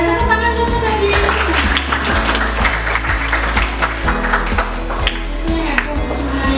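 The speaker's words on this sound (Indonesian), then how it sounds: "Tepuk tangan dulu Kak Diayu." Audience applause at a teacher-training workshop: fairly regular, sharp hand claps repeat for several seconds over a sustained ringing tone, with only a little talk in the background.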